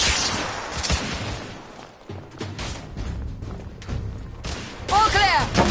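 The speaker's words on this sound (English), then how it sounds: "Igraine! Lay down suppressive fire!" Suppressive gunfire in the game The Order: 1886: a loud volley of shots and booms, with voices shouting over the battle.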